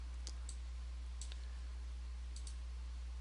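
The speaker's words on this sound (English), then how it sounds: "we click OK" Several sharp, quiet computer mouse clicks come singly and in quick pairs over a steady low hum.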